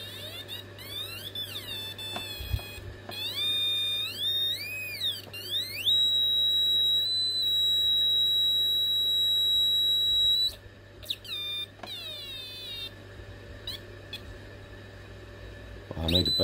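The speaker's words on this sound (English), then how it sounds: "At this point, your Atari Punk should be making some horrible sounds." An Atari Punk Console noise circuit built on a breadboard emits harsh electronic squeals and sweeping pitch glides, with long steady shrill tones, stuttering bursts and a constant low hum, loud and close.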